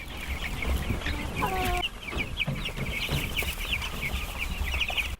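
Broiler chickens cluck on an outdoor pasture in warm weather, a busy overlapping chorus of close clucks and calls over a low farm background.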